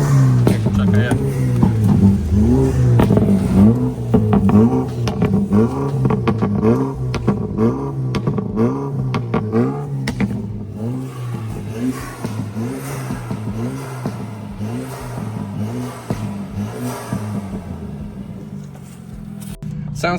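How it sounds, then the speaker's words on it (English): BMW four-cylinder car engine at a large BMW meet in Poland, revving repeatedly in rapid rising and falling pulses, loud and close, with crowd noise around and someone talking over it. "Sounds pretty good for a 4-cylinder, and it goes pretty good too"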